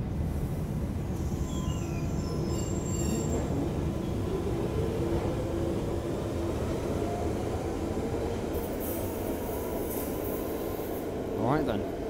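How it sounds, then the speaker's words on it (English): A London Underground Central Line train bound for Woodford pulls out of a station at night, a loud continuous rumble and whine of the carriages rolling past, with a brief wheel squeal near the end and people talking quietly nearby. "It's a Central Line train to Woodford by..."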